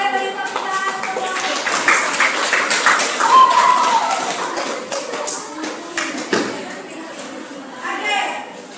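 Students in a classroom clap for a classmate after a math answer, a short burst of scattered hand claps mixed with a teacher's voice talking nearby.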